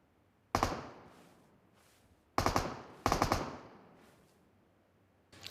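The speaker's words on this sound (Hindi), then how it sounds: "वहाँ से गोली चल रही है" Rapid automatic gunfire in the PUBG video game comes in several short, sharp bursts separated by quiet gaps, each burst a loud crackle of quick shots with a fading tail.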